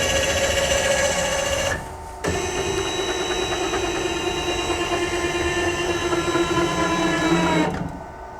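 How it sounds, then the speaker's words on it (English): An Ewellix actuator in a trash compactor runs a compaction cycle with a steady mechanical whir and hum, pausing briefly midway before resuming, then cutting off near the end. "you can wave your hand under the door 3 times to make it run a compaction cycle"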